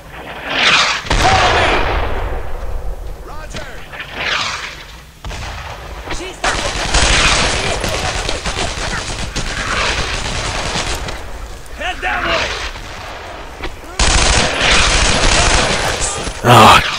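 Mortar and gunfire thunder in a World War II shooter set in June 1944, with heavy booming blasts and rolling bursts of shots that are loud and close and repeat through the whole stretch over battlefield noise.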